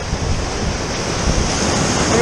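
Ocean waves breaking at a beach on a summer day, a steady loud broadband wash of surf with wind rumbling against the microphone and no clear voices.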